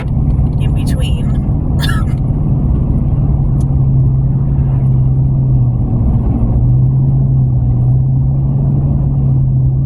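A truck drives along a snowy road, its engine a steady low rumble with a droning hum close by, while a person talks over it.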